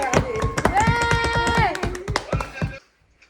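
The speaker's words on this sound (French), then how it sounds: "Applaudissez." Small group clapping at a home birthday celebration during lockdown: quick, fairly rhythmic claps up close, mixed with voices singing and talking, then fading to near silence at the end.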